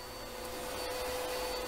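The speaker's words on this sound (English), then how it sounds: "Mind the vacuum cleaner." A vacuum cleaner runs steadily throughout on a home cleaning day, a loud, even whine with a constant motor hum and no breaks or speech.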